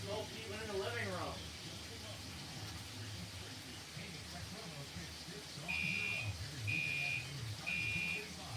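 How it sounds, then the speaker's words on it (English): A smoke-triggered fire alarm in a smoky home sounds three loud repeated electronic beeps in a steady pulsing rhythm, following a stretch of rustling and voices speaking nearby. "It set off the fire alarms."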